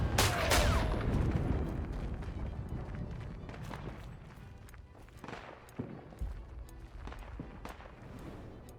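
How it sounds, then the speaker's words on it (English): Mortar and gunfire in the World War I shooter Isonzo, a loud blast up front followed by scattered sharp reports and distant battlefield rumble with footsteps. "Oh yeah, here's the mortar right here."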